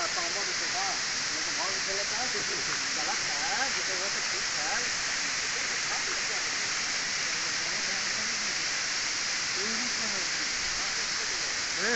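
Sita Kund waterfall, a tall falls in a forest: a constant hissing rush of falling water fills the background while people talk over it.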